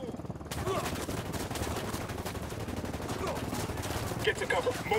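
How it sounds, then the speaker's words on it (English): Sustained automatic gunfire in the tactical shooter Ghost Recon: Wildlands. The bursts roll on dense and loud for the whole stretch over a low rumbling bed, with faint voices underneath. "opening fire."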